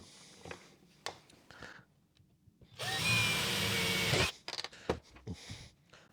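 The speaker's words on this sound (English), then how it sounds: "I've got to drill some holes." A power drill runs in one loud burst of about a second and a half while drilling holes, surrounded by scattered clicks, knocks and handling noises of a workshop tinkering session.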